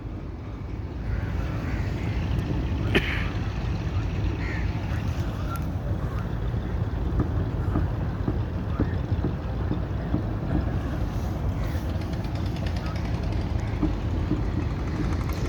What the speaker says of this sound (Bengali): এই দেখুন স্পিড বোট স্পিড বোট যাচ্ছে